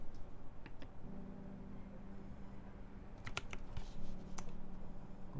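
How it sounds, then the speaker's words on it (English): Typing on a mechanical keyboard fitted with GMK Dracula keycaps and Nightmode modifiers gives quiet, steady key clicks, with a faint hum underneath and a short burst of sharper clacks toward the end. "What keycaps are those? This is GMK Dracula. GMK Dracula with Nightmode modifiers"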